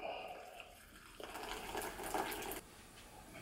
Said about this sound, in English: You just want to go ahead and add your water on top of that.